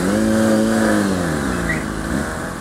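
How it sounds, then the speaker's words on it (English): A motorcycle engine revs loudly and close, a steady mid-pitched drone with a rising then falling tone over a few seconds, with no talking. "I think he wants a rev bump."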